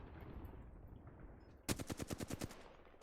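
Apex Legends gunfire in a rapid automatic burst of about eight sharp, evenly spaced shots, loud and close, after a stretch of low rumbling ambience.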